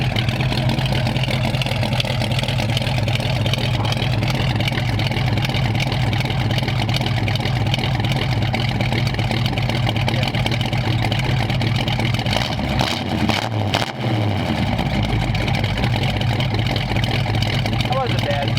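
A 1934 Ford Sedan Delivery hot rod with dual exhaust idles with a steady, rumbling mid-pitched burble that holds even throughout, briefly dipping near the end, with someone talking over it.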